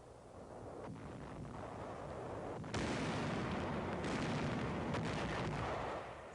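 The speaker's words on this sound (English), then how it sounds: "Firing on enemy barges in the Rhine before Dusseldorf." Artillery fires on enemy barges on the Rhine before Dusseldorf, heard as a continuous far-off rumble with a sharp jump in loudness partway through and more booming reports after it.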